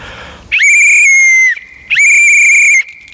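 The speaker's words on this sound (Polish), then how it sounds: "ten gwizdek potrafi naprawdę donośnie zagwizdać" Two long, piercing survival whistle blasts signaling SOS, each about a second, separated by a short pause; loud and close, with no voices.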